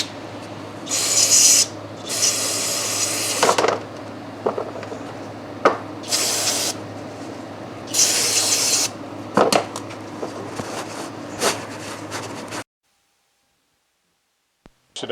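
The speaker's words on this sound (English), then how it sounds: "I'm going to spray it down with some carb cleaner, probably 2 or 3 times" Carb cleaner sprayed from an aerosol can onto a metal tent frame hub comes in several long hissing bursts separated by pauses, close and fairly loud, with small clinks between, then silence.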